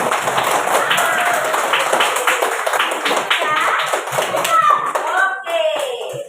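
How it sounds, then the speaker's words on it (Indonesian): Children clap their hands together in a classroom during a teaching session, a steady run of fairly close claps heard under a voice and children's voices that continue throughout. "Iya, tepuk tangan."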